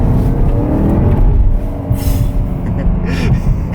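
A Porsche Panamera Turbo pulls hard on a slick road, its deep engine roar swelling as the wheels spin up in second gear. The sound is close, loud and continuous for a few seconds.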